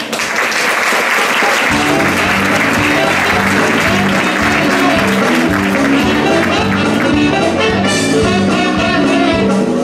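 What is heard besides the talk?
audience applause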